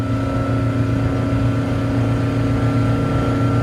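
A 2010 Glastron GT 209 Cuddy motorboat runs steadily at about 4,000 RPM with its trim raised slightly, giving a loud, continuous engine drone over water noise with no pauses and no voices.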